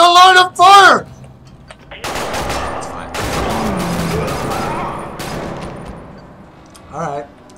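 Video game gunfire from Quantum of Solace, bursts of automatic shots and crashing impacts across the scene, loud and close, with a voice talking over the start and briefly near the end.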